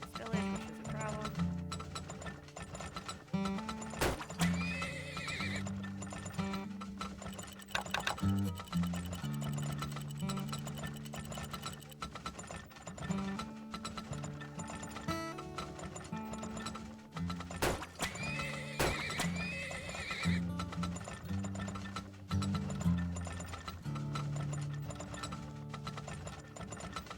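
Horses in the video game Turmoil neigh and whinny repeatedly over steady clip-clopping hooves and mechanical game clatter, with game music running underneath at low volume.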